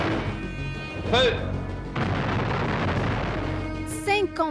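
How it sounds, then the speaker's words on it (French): Archival nuclear test explosion in the southern Algerian desert, a sustained, heavy broadband roar with a sudden onset, mixed with voices. "57 explosions nucléaires dans le sud algérien"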